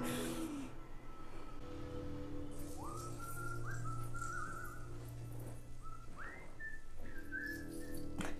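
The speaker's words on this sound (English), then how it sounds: "He's whistling." Someone whistles a short, sliding melody over a steady background hum, moderately faint and unhurried.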